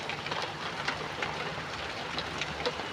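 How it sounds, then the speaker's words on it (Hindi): Heavy rain falling outside, a steady broadband hiss of downpour with faint scattered patter, moderately loud and unbroken, with no voices. "सुनो, बारिश तेज हो रही है? बहुत ज़्यादा।"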